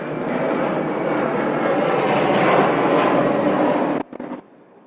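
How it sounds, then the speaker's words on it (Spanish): An airplane passes overhead, a steady loud broadband engine roar holding for about four seconds before cutting off abruptly, followed by brief faint noise. "Es que doy chance para que pase el avión, para que no extrañen los aviones"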